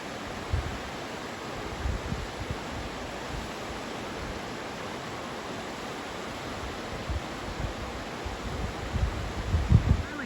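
Steady broadband rush of Fall Creek flowing after the Archie Creek Fire, a continuous wash of moving water with a few louder surges near the end, no voices.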